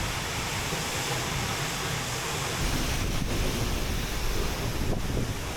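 Water pours behind a waterfall on Iceland's south coast, a dense, constant roar of falling water close by with wind buffeting.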